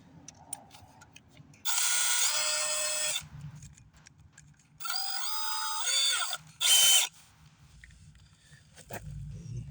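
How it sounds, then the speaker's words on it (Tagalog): Drill gun with a drill bit boring into a vehicle's sliding side skirt, three loud whining bursts of a few seconds each separated by quiet gaps, close up. "We use a drill bit and drill gun."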